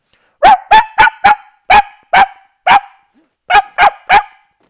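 A human voice imitates a stressed small lapdog, letting out ten sharp, yappy barks in quick bursts, a run of four, then three spaced ones, a pause, and three more, loud and close.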